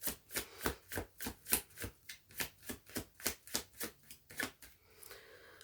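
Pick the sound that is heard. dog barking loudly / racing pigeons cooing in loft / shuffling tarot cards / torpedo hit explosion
shuffling tarot cards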